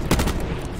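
Rapid bursts of gunfire in a multiplayer shooter video game, loud and close, a dense stuttering volley filling the whole short moment with no talk over it.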